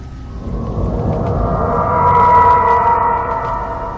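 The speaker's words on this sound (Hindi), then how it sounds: "बारिश तो अभी रुकेगी नहीं।" Heavy rain pours in a steady, dense roar with a low rumble underneath, loud and continuous throughout, with no voices present.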